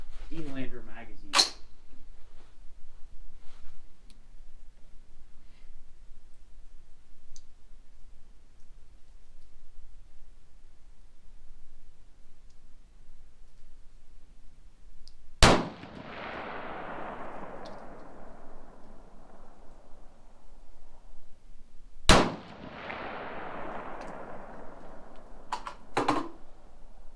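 Suppressed 6mm ARC AR-15 rifle firing at an outdoor range in cold weather: three sharp, loud reports spaced well apart, each with a hissing decay, and a faint voice near the start.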